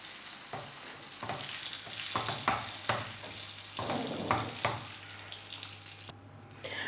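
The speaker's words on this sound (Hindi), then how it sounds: "अब इनको करेंगे अच्छे तरीके से मिक्स।" Mashed potatoes being stirred and mixed with spices and onion masala for aloo tikki, giving repeated scraping and squelching strokes in a steady rhythm, fairly close and moderately loud, with no talking.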